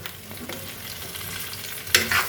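Pork meat frying in a pan hisses with a soft, steady sizzle, then a sudden louder burst of crackling spatter near the end as it is stirred.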